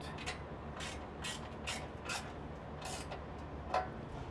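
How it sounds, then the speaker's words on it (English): A ratcheting box wrench clicks in a series of short, evenly spaced ratchet strokes while tightening a roof rack deck panel, close but fairly faint, with no voices. "I have a ratcheting box wrench because it's going to make life easy, and you'll start to tighten it"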